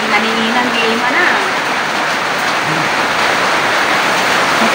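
Dense, steady hiss of heavy rain pouring down, loud and continuous with no breaks.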